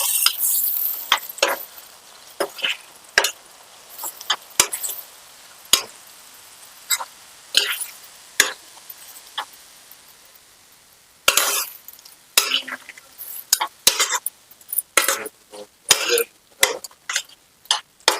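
A spoon stirring drumstick and chukka kura curry with spices in a pot, producing a series of sharp scraping and clinking strokes in irregular bursts, close and fairly quiet between strokes.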